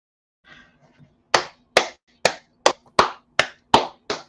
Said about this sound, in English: I'm gonna applaud Jennifer Bonjean.